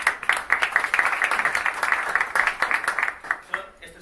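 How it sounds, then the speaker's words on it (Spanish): An audience applauds during a live gin-distilling demonstration, a dense, sustained patter of many hands clapping that thins out toward the end. "un compañero de fatigas, un aplauso, por favor"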